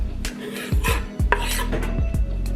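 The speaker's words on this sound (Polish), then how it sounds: "I pokrojone korniszony wrzucam do miski z jajkami." Sliced pickled gherkins dropped into a bowl with chopped eggs for a kabanos sausage salad, giving several close, soft clattering thuds and scrapes in a quick irregular run, with no talking.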